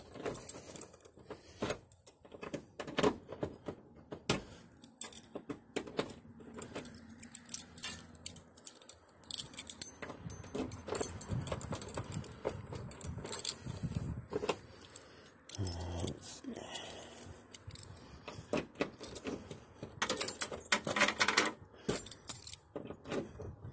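Keys jangle and clink repeatedly at the trunk lid of a Dodge Challenger in rough condition, an irregular metallic rattle that comes and goes close by for over twenty seconds, with brief bumps and handling noises mixed in.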